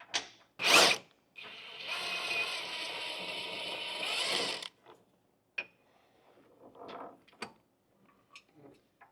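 Ratchet wrench working loose a 27 mm rear subframe nut on a second-generation Toyota Sequoia, a sharp clank then a sustained rapid ratcheting whir, followed by scattered small metallic clicks and taps, close and alone.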